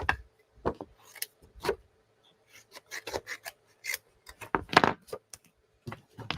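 Paper being trimmed for a floral greeting card: a series of short, crisp rasping cuts at close range, spaced irregularly with quiet gaps between, no talking.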